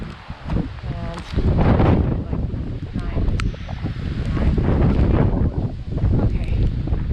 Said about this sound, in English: So it's kind of windy here.